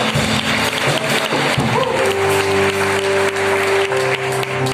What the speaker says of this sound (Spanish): Si vas a aplaudir al Señor, hazlo con todas las fuerzas que tienes en tus brazos y en tu corazón